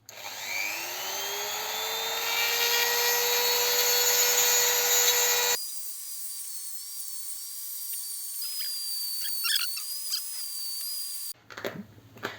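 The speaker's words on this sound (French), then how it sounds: "technique Dremel, hein. On va venir faire un plat là pour pouvoir dévisser." A Dremel rotary tool whines at high speed while grinding a flat onto a bolt on a Honda CB125 twin engine. The shrill tone spins up, holds steady, then cuts and resumes in bursts, close and alone.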